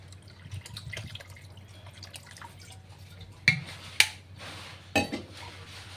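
A little water poured into a cooking pan of potatoes and papad on a gas stove, with faint trickling and dripping followed by a few sharp metallic clinks of utensils against the pan.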